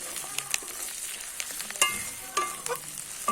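Homemade hair oil with tulsi leaves and hibiscus flowers heating in a pan, a quiet sizzle with scattered stirring scrapes and small knocks, no voices.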